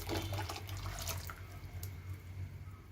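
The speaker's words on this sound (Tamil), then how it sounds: "இப்போ அது கூட நான் மிக்ஸி ஜார் வந்து வாஷ் பண்ணி 1 கப்பு தண்ணி சேர்த்துருக்குறேன்" A cup of water is poured from a rinsed mixer jar into a cooking kootu curry, a close, steady splashing pour that tapers off partway through into a quieter trickle.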